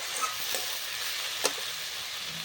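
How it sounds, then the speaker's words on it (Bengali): Fried potatoes tipped into a pan for a prawn and banana-flower ghonto give a steady, fairly quiet sizzle with a few brief stirring scrapes and one sharper clack near the middle, no voices. "তারপরে আলু যে ভেজে রেখেছি সেই আলুটা আমি দিয়ে দেবো।"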